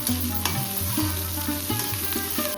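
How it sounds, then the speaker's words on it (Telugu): Dry red chillies, chopped green chillies, ginger pieces and spices being stir-fried in a pan of hot oil for daddojanam, a steady loud sizzle with a spoon repeatedly scraping and stirring, no talking. "తరువాత 1 గుప్పెడు కరివేపాకు, కొంచెం ఇంగువ వేసుకొని అన్నీ బాగా కలుపుతూ వేయించుకోవాలి"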